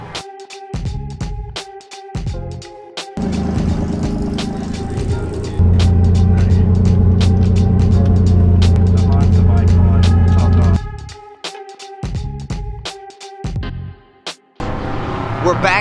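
A clunker race car runs in a 24 Hours of LeMons endurance race, its engine droning steadily and loudly, with a heavier, deeper roar swelling through the middle stretch and rattling clicks throughout.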